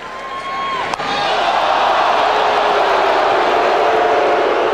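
A baseball stadium crowd boos Japanese pitcher Nomura as he leaves the mound after facing Barry Bonds, a loud, dense, steady wall of jeering voices that builds after a brief sharp knock and stays unbroken to the end.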